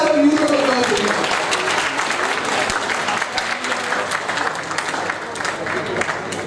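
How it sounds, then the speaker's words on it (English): An audience at a national academic conference gives a loud round of applause for an honored guest, dense clapping with a tonal voice or sound fading in the first second, then steady to the end. "May we please have a huge round of applause for him"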